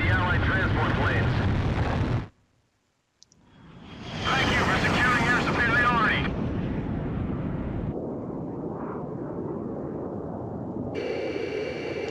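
Allied transport planes fly past in the video game Ace Combat Zero, a loud roaring engine rush that cuts out briefly, then swells back and rumbles on under radio-style chatter and music.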